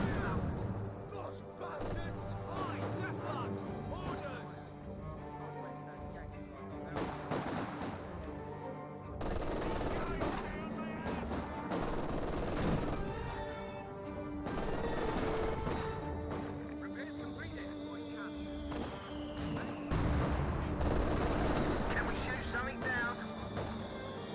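Machine-gun bursts and rifle fire in a Company of Heroes 2 match: dense, continuous gunfire and battle noise with occasional thuds, running steadily under a commentator's voice.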